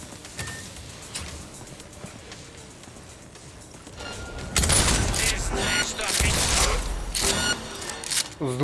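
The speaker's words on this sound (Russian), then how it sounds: "Давай попробуем с дробовика пошмалять." Loud shotgun blasts from the video game Cyberpunk 2077, several sharp bursts in quick succession over a noisy, busy background.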